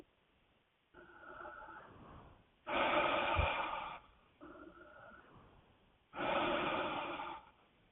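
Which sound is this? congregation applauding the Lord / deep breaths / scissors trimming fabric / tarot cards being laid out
deep breaths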